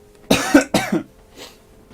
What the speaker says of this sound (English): I've got a rotten cough as well.